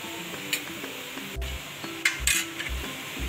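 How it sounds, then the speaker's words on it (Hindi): A spoon stirs chicken spring roll filling with soy sauce in a bowl, scattered clinks and scrapes of metal on the dish, fairly close and with no talk. "इसको अच्छी तरह मिक्स करना है"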